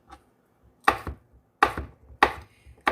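A knife slices a bell pepper into long strips on a cutting board, three sharp, evenly spaced chops with light scraping in between, close and clear with no talking.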